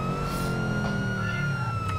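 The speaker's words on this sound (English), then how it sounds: "He's got his sirens on and everything." Police car siren in a GTA 5 role-play game session, a steady wailing tone held over a low engine rumble, fairly loud and continuous with no talking.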